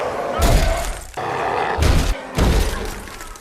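A furious zombie smashes against a glass door in the film I Am Legend, giving three heavy crashing impacts with shattering, roaring bursts separated by brief lulls, loud and close.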